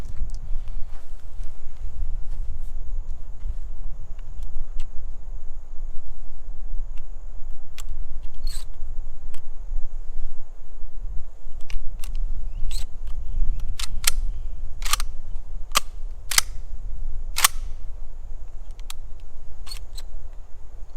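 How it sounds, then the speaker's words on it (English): Three Remington 3-inch shotgun shells being loaded into a Mossberg SA410 outdoors, a series of sharp metallic clicks and snaps in the second half over steady low wind rumble, with no talking. "So I'm going to load 3 of the Remingtons into the gun."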